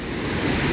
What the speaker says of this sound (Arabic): شلالات فيكتوريا